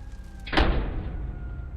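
A home door swings shut with a single heavy thud, close and loud, and a low rumbling tail fades slowly afterward.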